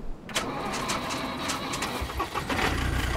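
A vehicle engine cranks and catches in SCUM, a rough starter churn with uneven clattering pulses that settles into a loud, throbbing medium-sized engine running close by.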